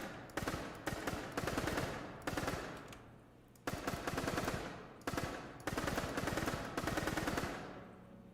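Rapid bursts of automatic gunfire from a homemade retro online first-person shooter, several loud sustained volleys separated by short pauses, with no talking.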